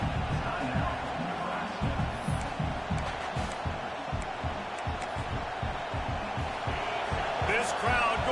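Arena crowd noise in an NBA 2K basketball video game, a dense steady roar with rhythmic thumps beneath, running continuously under a play-by-play commentator's voice.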